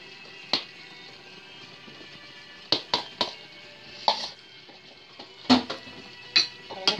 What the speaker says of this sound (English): Now what I'm going to do, I'm going to add my vegetables to here.